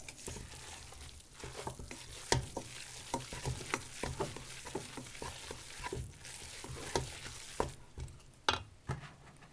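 Homemade cottage cheese curds stirred in a bowl after the whey has drained, soft wet squelches and irregular spoon clicks up close, quiet and intermittent with no talk.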